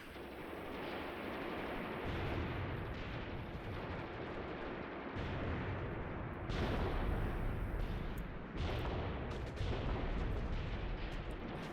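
Machine gun bursts and artillery fire in the war game Graviteam Tactics, a steady rumbling barrage with repeated distant booms and crackling fire, continuous and moderately loud with no talk.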